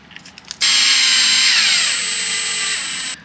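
A power screwdriver drives a screw in a factory workshop, one sustained high whine of about two and a half seconds that drops slightly in pitch as the screw tightens, loud and close, preceded by a few small handling clicks.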